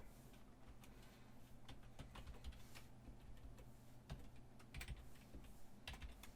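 Steady rapid typing on a computer keyboard during web programming work, a close run of crisp key clicks with occasional heavier strokes over a low hum, no voices.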